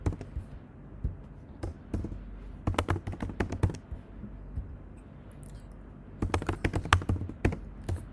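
Typing code on a computer keyboard for an iOS 13 CRUD app: bursts of rapid, close keystrokes with pauses between them, clattering alone without talk.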